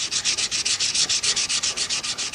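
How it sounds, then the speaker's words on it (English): Sandpaper rubs lightly over a stationary wood-turned piece on a lathe, a steady run of about fifteen quick, even back-and-forth strokes, close and fairly loud, with no talking. "Now I think I'm going to find some sandpaper and just go over that just lightly"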